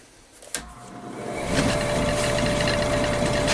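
A hard pine bowl is ground down on a wood lathe: a sudden start gives way to a loud, steady whining grind with a persistent tone, building and holding close by.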